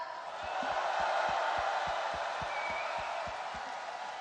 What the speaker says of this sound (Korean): 우리 당 대통령 후보자들께 뜨거운 함성과 응원의 박수 부탁드립니다